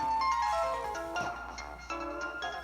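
A short, bright electronic startup jingle from a prototype Sony Aibo ERS-7 robot dog plays fairly quietly, a quick melodic sequence of chiming tones with a few percussive clicks.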